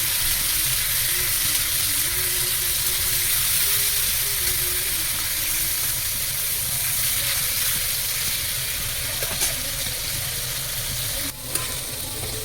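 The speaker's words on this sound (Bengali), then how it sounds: "মাশরুমটা একটু ভেজে নেবো।" Boiled mushrooms fry in a pan with a steady, dense sizzle and hiss that runs throughout, close and fairly loud, with a faint clink near the end.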